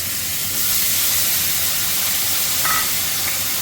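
Green chilies fry in hot oil left from frying fish, a broad, steady hiss filling the clip, swelling slightly after the start and continuing evenly with no voices.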